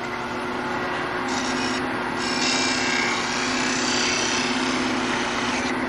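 A spinning wooden twig vase on a lathe turning at about 2,000 rpm gives a steady rubbing, hissing friction sound with a constant motor hum underneath as lines are burned into it, with no talk.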